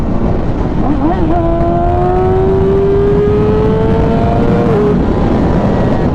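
A Yamaha R6 sport motorcycle revs hard while being ridden, its engine note climbing in a steady rising whine over about four seconds before dropping off, loud and close against constant wind roar.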